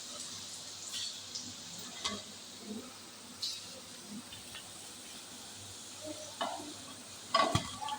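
Banana cutlets fry in hot oil in a pan, a soft steady sizzle with occasional scraping stirs and clinks as the pieces are turned and lifted out.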